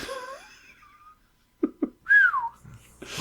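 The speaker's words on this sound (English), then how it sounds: "I shouldn't whistle into the mic" Person whistles right into a podcast microphone in a few short gliding notes, close and clear, separated by quiet breaths.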